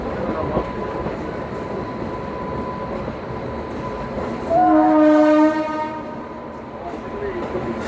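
The 03161 Kolkata-Digha Special Express pulls into Andul station with a steady rolling rumble, and a loud, sustained horn blast sounds midway before the train noise carries on.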